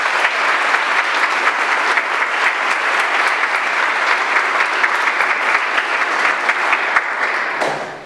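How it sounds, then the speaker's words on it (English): Sustained, loud applause from the audience at a naval captain's retirement ceremony, steady dense clapping for several seconds that fades out at the end. "Would you join me in giving them a round of applause?"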